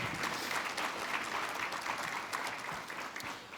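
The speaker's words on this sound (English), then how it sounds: "A big round of applause for our sponsors" Sustained applause from a summit audience, steady and dense for the whole stretch with no voices standing out.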